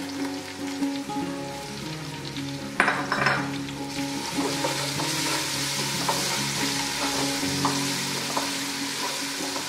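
Garlic and ginger sizzle steadily in a hot pan, with occasional scraping and clinks of a spoon stirring, continuous throughout.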